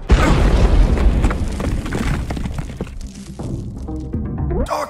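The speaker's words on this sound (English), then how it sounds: "An explosion." An explosion goes off in the video game UnMetal: a loud booming blast that rumbles and crackles, then decays into scattered debris rattles and a final sharp hit.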